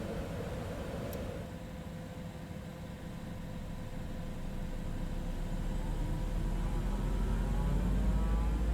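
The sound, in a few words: Citation X right jet engine starting up in flight simulator game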